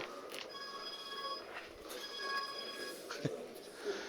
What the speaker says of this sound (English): Just had a phone ring in the audience, which is always good.